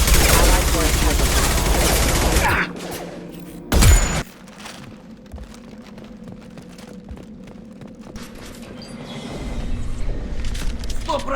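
Loud rapid gunfire and explosive bursts from a Mass Effect 2 combat firefight, dense for the first few seconds, then a single sharp boom before quieter battle ambience with distant shots and clatter.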